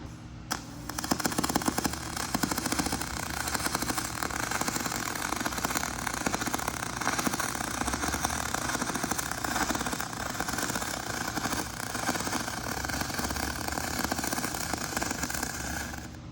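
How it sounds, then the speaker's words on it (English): A YesWelder DP200 pulse MIG welder runs a steady bead along an aluminum butt joint, giving a continuous dense crackling buzz that holds nearly unbroken for about fifteen seconds at close range, with no talking. "I like the way this is laying in welds."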